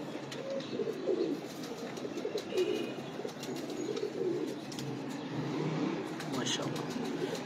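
Pigeons coo in a soft, overlapping murmur at a loft, with occasional wing flaps and someone speaking over the steady throaty calls.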